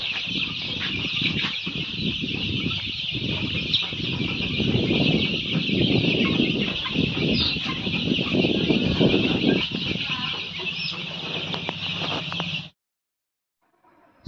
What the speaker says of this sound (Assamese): আমি লোকেল কুকুৰা পালন কৰোঁ আৰু লগতে হাঁহ পালন কৰোঁ